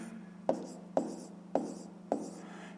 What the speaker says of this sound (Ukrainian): Записуємо це в вигляді дробу